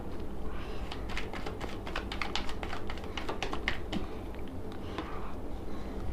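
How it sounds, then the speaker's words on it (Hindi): Tarot cards being shuffled close up, a rapid run of crisp, irregular taps and flicks that carries on steadily and fairly quietly throughout, with no voice over it. "आपके सामने रीडिंग कर रही हूँ, आपके सामने शफल कर रही हूँ"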